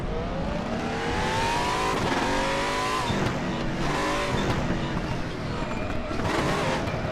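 A powerful race car in the RaceRoom Racing Experience sim game accelerates hard through repeated rising engine sweeps and gear changes, loud and constant, with tire noise and talking over the top.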